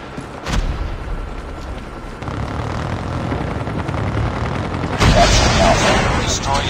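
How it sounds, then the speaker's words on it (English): Hostile stealth helicopter approaching in a Call of Duty Mobile team deathmatch, a rising rotor drone that grows louder toward the end, mixed with bursts of gunfire, booms and game effects. "Be advised, hostile stealth chopper inbound."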